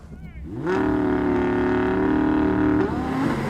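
A car engine revs up and holds a loud, steady roar for a few seconds, then drops off, with a deep, throaty exhaust note.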